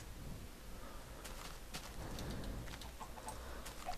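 Minecraft chicken clucking in short, scattered bursts over a steady low game hum, moderately loud with no talk.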